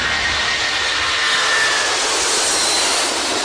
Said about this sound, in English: This plane's about to get going. The pilot is turning the ignition.